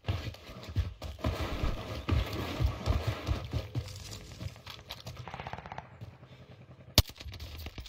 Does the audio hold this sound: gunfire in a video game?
yes